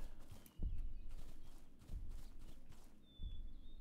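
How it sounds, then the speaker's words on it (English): In the Siren Head horror game, a horse's hooves clop in slow, separate thuds, about four steps spaced across a few seconds, fairly close, with a faint high whinny near the end and no voices. "Oh, it's a horse."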